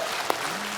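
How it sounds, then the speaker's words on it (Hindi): A brief stretch of studio audience applause on a Hindi comedy show, steady dense clapping with one sharper clap standing out. "तालियां"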